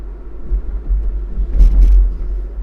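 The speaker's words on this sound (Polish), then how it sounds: "Owszem, zawieszenie jest głośne" Seat Tarraco 2.0 TSI with noisy suspension rolls over bumps, a steady low road rumble inside the cabin broken by a couple of brief thumps and rattles.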